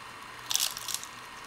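A single crisp crunch of teeth biting into a walnut date phyllo cup with flaky pastry and caramel bacon garnish, close and brief against a quiet room.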